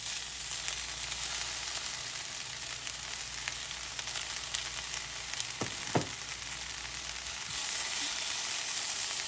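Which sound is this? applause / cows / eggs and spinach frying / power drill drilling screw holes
eggs and spinach frying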